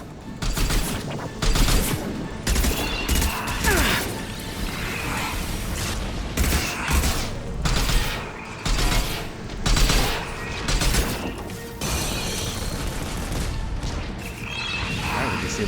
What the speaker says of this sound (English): those Guardian turrets are firing at the collector ship.